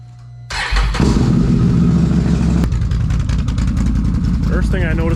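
A 2022 Can-Am Renegade 1000 XMR ATV with an upgraded clutch starts up with a sudden loud roar, then settles into a close, steady running engine with pulsing rhythm; a voice talks briefly near the end.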